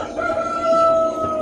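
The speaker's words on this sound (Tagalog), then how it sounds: "Yung mga manok, ewan ko ba, nilalamig na." Chickens on a rainy farm cluck while a rooster lets out a drawn-out crow, fairly close and clear, with no one talking.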